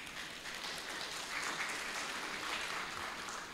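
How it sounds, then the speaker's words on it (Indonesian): A crowd of new students and guests at a university event claps steadily for the organising committee, a dense, sustained applause that swells slightly midway and holds at an even level throughout. "Aplaus dulu buat para panitia."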